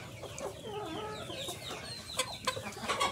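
Tiger breed rooster and hens clucking close by on a household poultry farm, a steady run of overlapping clucks and calls with sharper, louder squawks near the end.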